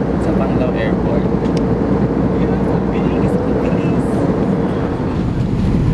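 Steady, loud airplane cabin roar with deep engine rumble as the plane descends toward Panglao Airport, continuous throughout.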